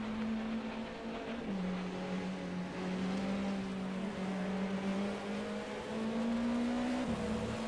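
A race car in an endurance sim race at Silverstone runs off onto the grass along the start-finish straight, its engine droning steadily at close range with a rough, rumbling texture throughout, no voices.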